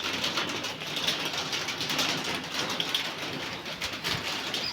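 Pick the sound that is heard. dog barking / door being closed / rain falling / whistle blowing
rain falling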